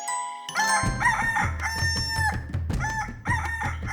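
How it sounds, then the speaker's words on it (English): A rooster crows loudly and close, a few trumpet-like calls in quick succession with clucks and a faint tinkle around them. "the cockerel stood up and flapped his wings 3 times, crowing with a voice like a trumpet"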